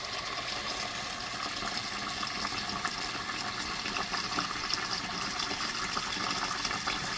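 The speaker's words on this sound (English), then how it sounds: "Now you're gonna wash the rice, guys." Rice being washed in a pot with running water, a steady continuous gush and splash of liquid filling and swirling throughout, fairly close, with no voices.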